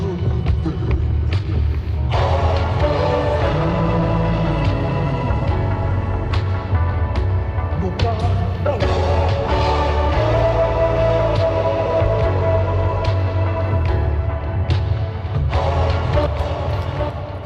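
A hip-hop sample slowed to 72 BPM and pitched down six semitones, thick with effects: a dense, loud, continuous bed of deep bass and muffled sustained chords, with periodic thumping hits throughout.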